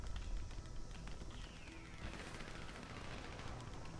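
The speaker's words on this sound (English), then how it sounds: "Gunshots sound brutal." Rapid bursts of gunfire in GTA Online crackle through a noisy, rumbling soundscape, with a sharp rise in intensity midway.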